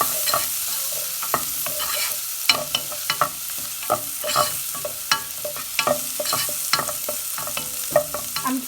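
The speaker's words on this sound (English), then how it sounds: "I've stir fried the onions and garlic and it's cooked very well." Finely chopped onions and garlic sizzle in a pan while being stirred, with a steady frying hiss broken by repeated scraping knocks of the spatula, close and clear, without speech.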